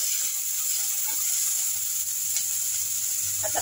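Garlic, corn and carrot sautéing in a pan give a steady, close sizzle that fills the whole stretch, with faint clinks of stirring near the end.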